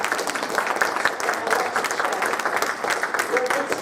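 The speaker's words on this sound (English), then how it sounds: "Give them a round of applause." Applause from the audience at an ASU panel discussion for the panel speakers, a continuous wash of clapping from many hands heard close and fairly loud throughout.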